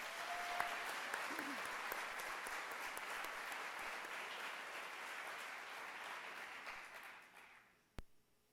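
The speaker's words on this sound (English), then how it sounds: "Can we have a round of applause?" A crowd at a convocation ceremony applauds steadily for several seconds, then the clapping fades out, ending with a single sharp knock.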